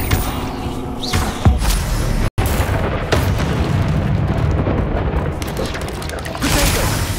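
Booming Bombarda spell blasts from Hogwarts Legacy crash over a dense, continuous wash of game noise, with one sharp break in the middle and several heavy impacts spread across the stretch.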